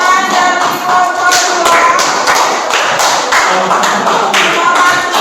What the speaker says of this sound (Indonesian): Tepuk tangan dari kelompok